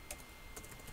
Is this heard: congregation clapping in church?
no